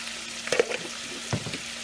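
Brinjal cooks in a pan with turmeric powder and salt, giving a soft steady sizzle with a couple of brief stirring clatters. No one talks.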